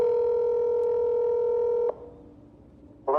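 Telephone dialing tones from a recorded phone call: a steady two-pitch electronic tone holds for nearly two seconds, then cuts off into faint line hiss before another short tone starts at the end.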